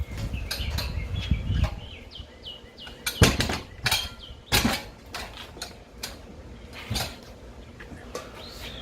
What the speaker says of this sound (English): Got the birds chirping.